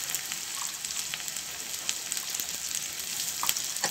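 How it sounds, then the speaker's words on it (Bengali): Three small chopped onions sizzle steadily in a hot pan, a close, even crackling hiss with light stirring noises. "এই সাইজে ছোট ছোট তিনটে পেঁয়াজ আমি কুচি করে রেখেছি দিয়ে দিলাম"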